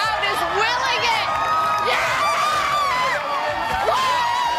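A crowd cheers and whoops during a live Weather Channel broadcast as a solar eclipse passes over Texas, a loud continuous roar of excited voices with rising shouts throughout.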